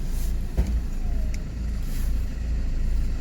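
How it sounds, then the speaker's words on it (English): A BMW 1 Series diesel car engine idles steadily close by, a continuous low rumble with a brief louder knock near the start and no talk over it. "we're gonna start the car up and leave the engine running at idle"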